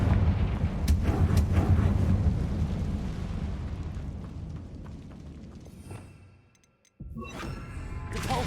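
A Confringo fire spell explodes in Hogwarts Legacy with a deep rumbling burst that slowly fades to near silence, followed by a fresh surge of game noise at the end.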